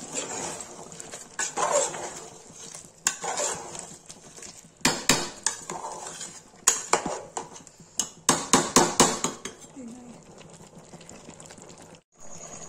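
A spoon stirring chicken do pyaza in a pan, loud irregular clanks and scrapes of metal on metal in bursts, with quieter sizzling and rustling between them.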